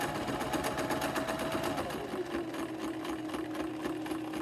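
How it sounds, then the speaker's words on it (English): A sewing machine running a continuous stitch along the folded edge of a flat fabric face mask, with a close, steady, even needle rhythm throughout and no talking. "you're going to sew right along the edge of that fold, all the way to the other end"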